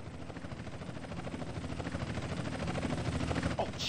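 Helicopter arriving in the video game GTA San Andreas, a rhythmic rotor chop that grows louder and nearer over a few seconds, with no talk over it.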